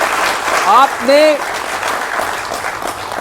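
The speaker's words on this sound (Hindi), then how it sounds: "ताली बजानी चाहिए आप लोगों को" Applause from an audience at a televised discussion, a dense clapping wash that carries through the whole stretch while someone speaks over it.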